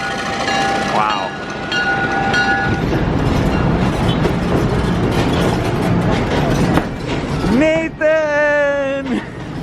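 A heritage railroad passenger train heading toward Cleveland rolls along loudly with continuous rumbling and clacking wheels, a horn sounding briefly early on and again near the end, with people talking over the ride.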